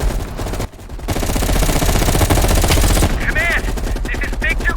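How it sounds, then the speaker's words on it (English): Sustained machine-gun and rifle fire from a Call of Duty: Cold War battle, loud and dense for several seconds with a brief dip early on, followed by whistling, warbling effects over continuing shots. "You readied your sniper rifle to assist."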